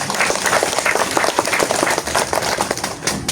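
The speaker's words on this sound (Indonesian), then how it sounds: "Tepuk tangan untuk semangat ini." A congregation at Mass applauds together in a cave shrine to Mary, dense steady clapping that fills the whole moment, close and loud with a crowd murmur beneath.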